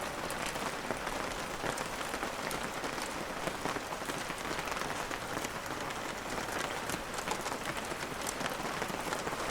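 Steady rain pattering on a surface, dense and even throughout, with no voices.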